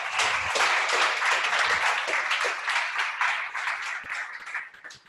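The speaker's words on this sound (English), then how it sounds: "Please give a warm applause." Audience applause at a tech meetup, a dense, sustained round of clapping from a crowd that carries on steadily for several seconds before tapering off at the end.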